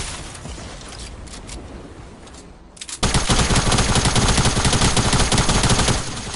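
Loud video game gunfire in a solo match: rapid automatic bursts that suddenly jump to a sustained, dense volley of shots, close and harsh, with no talking.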